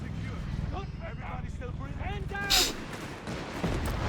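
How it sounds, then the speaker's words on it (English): Artillery fire from the Company of Heroes 3 video game, a low booming rumble and one brighter burst rolling under continuous fast commentary from a caster. "Artillery"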